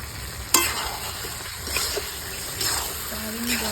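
Chicken pieces tipped into a pan of sizzling, oil-separated gravy for a spicy home-style meat curry, then stirred; a sharp clatter opens, followed by soft scraping stirs and steady frying hiss, with brief talk underneath.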